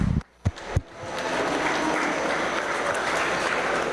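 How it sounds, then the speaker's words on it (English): Audience at a market and breeding beef show breaks into sustained applause after a couple of sharp opening claps, filling the hall steadily and fairly loudly. "Let's give them a round of applause."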